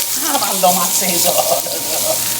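Steak searing in a hot pan, a close, steady sizzle and crackle of spattering fat running throughout at moderate loudness, with no speech over it.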